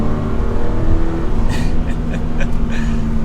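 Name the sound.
Toyota GR86 manual accelerating on mountain road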